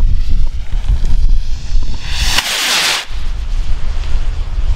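A large Polish firework rocket launches outdoors in gusty wind, its bright hissing whoosh rising sharply in the middle and fading after about a second over steady wind rumble against the microphone.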